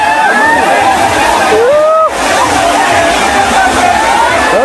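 Bhivpuri waterfall pours steadily into a pool crowded with people, a loud, continuous roar of falling water mixed with the babble of many voices and some shouts.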